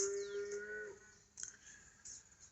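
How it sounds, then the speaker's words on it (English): A calf bawls in a drawn-out cry, followed by two shorter calls, distant and faint against a quiet outdoor background. "Didn't take long to find the sound of the bawling calf."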